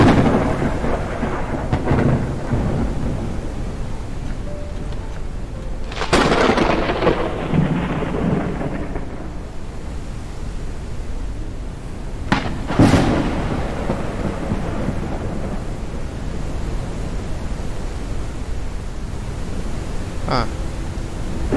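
A thunderstorm in the video game Forever Skies, with steady rain hiss throughout and two sharp lightning cracks that roll into rumbling thunder, one near the start and one just past the middle, with a fainter crack later, loud and close, with occasional talk.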